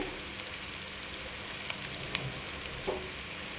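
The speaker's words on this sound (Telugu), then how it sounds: "ఉల్లిపాయలు ఇలా వేగిన తర్వాత మీడియం సైజ్ ఎల్లుల్లిపాయ పొట్టు తీసుకుని వేసుకోవాలి" Onions and garlic fry in hot oil for egg curry, making a dense, even hiss with a few faint clicks and pops, steady and moderately quiet.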